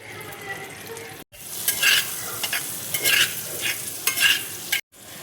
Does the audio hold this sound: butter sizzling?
yes